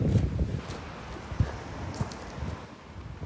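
Strong, gusty east wind outdoors buffets the microphone, making a continuous low rumble that swells and dips in uneven gusts.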